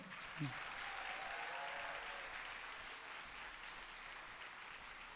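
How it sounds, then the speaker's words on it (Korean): A church congregation gives a soft, distant round of applause, a faint, even wash of clapping that holds steady throughout with a brief voice near the start. "박수 크게."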